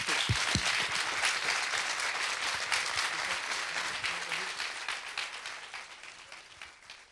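A studio audience at a 1996 television show applauds loudly for a band, dense sustained clapping that slowly thins and fades toward the end.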